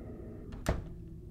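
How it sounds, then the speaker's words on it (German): In the video game Silent Hill 2, a door opens with a single short wooden thunk and a faint creak, set against a low, steady ambient hum with no talk. "Ah, die Tür geht auf."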